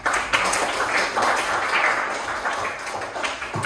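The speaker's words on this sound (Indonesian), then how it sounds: "Tepuk tangan" A classroom group claps for a presenting team during a teacher-training session, a dense close burst of applause that holds steadily for a few seconds without speech.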